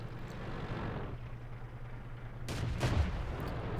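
A tank cannon fires in World of Tanks, heard as a loud broadband blast with a short second boom right after it, over a constant low engine drone.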